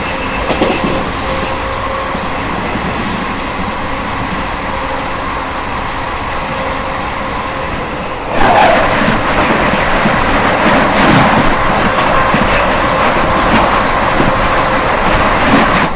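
The Anand Vihar Puri Neelachal Express rolls past on Indian railway track, first a distant rumble, then a sudden loud rush of wagons with rhythmic wheel clatter and faint squeal close by.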